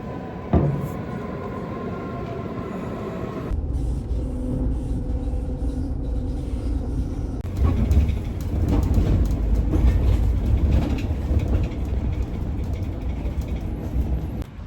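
A train in Germany rumbles steadily nearby, its low drone shifting partway through with rattling, clattering wheel noise continuing throughout.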